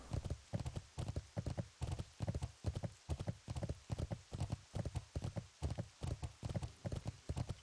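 Steady, rhythmic clip-clop of horse hooves trotting close by in World of Warcraft, a regular pattern of hoofbeats with nothing else prominent.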